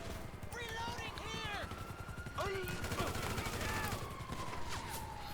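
Gunfire in GTA V, rapid repeated shots crackling over a busy game mix of whistling tones and a low rumbling drone, with someone speaking at times.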